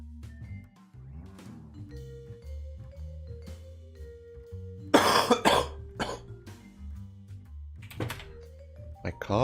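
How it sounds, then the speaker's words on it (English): A man coughs several times in a quiet room, a tight cluster of loud, harsh coughs in the middle followed by a couple more, with soft knocks and clicks around them. "My cough is still there."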